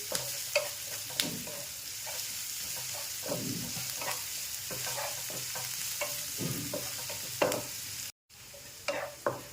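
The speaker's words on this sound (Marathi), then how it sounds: "हे दोन ते तीन मिनटं आपल्याला तेलामध्ये चांगलं परतून घ्यायचं आहे" Mixed vegetables sauté in oil in a pan for rava appe, giving a steady close sizzle broken by repeated scrapes and clacks of a spatula stirring against the pan, with a brief dropout near the end and no talking.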